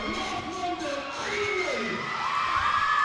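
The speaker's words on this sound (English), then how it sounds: "The crowd is hype. We have a big crowd out here today." A big crowd at a high school basketball game on senior night cheering and whooping in a steady loud wash, with rising shouts from nearby voices.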